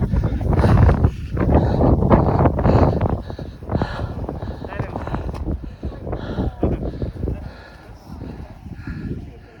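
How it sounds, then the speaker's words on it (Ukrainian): Wind gusts outdoors and buffets the microphone in a loud, steady low rumble that swells and eases, while people talk over it. "А зараз виходимо, от тут знов дує."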